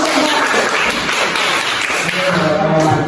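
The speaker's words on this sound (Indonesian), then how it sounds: "Tepuk tangan dulu." A classroom of students clapping hands after a presentation, loud and close with a dense, steady rattle of claps, and some voices mixed in underneath.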